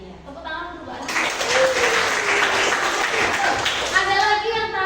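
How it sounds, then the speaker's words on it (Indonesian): Classroom applause for a student after she answers a physics question on potential energy, a burst of clapping that starts about a second in and carries on steadily to the end, with a voice near the start and faint talk under it. "Tepuk tangan untuk Mbak Ana"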